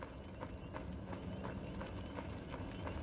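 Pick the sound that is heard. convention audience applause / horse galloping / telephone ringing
horse galloping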